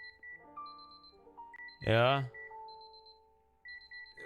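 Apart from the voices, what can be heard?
alarms going off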